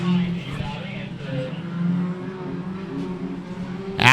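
Local-class race cars at Jackson County Speedway roar as they accelerate on the green flag, a layered engine drone from several cars at a distance under a commentator's voice, swelling at the end.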